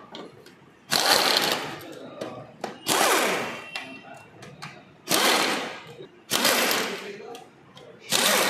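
Power tool driving screws while parts are fitted on an Aprilia motorbike with a vibration problem, sounding as loud whirring bursts of about a second or two that repeat several times with short gaps between them.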